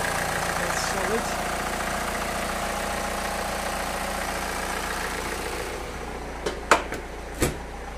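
A car engine idling after a jump start from a Gizzu 1000A jump starter, a steady close low rumble running throughout, with a few sharp clicks or knocks near the end.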